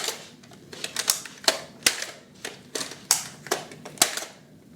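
A Nerf Elite Strongarm toy blaster gives a run of sharp, close plastic clicks and snaps, about a dozen in an irregular rhythm, with quiet gaps between them.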